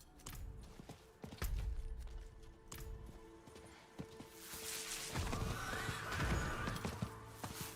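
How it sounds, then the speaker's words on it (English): A Nazgul horse mount in Diablo 4 whinnies amid clip-clopping hooves, with game effects such as crashes and booms scattered around it at moderate volume. "My Nazgul horse."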